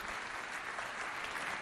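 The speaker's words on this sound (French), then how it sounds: "Est-ce qu'on peut applaudir pour nos deux candidats," Audience at a school quiz contest between Lycée Moderne Le Patriote and Lycée Les Excellents applauds two candidates, a continuous, fairly distant wash of clapping throughout.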